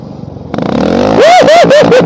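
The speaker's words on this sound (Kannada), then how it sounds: "ಅದು ಸೈಲೆನ್ಸರ್ ಸೌಂಡ್." A Hunter 350 motorcycle fitted with a modified silencer exhaust revs up from a low idle into four loud, rising and falling throttle blips, close by with no talk.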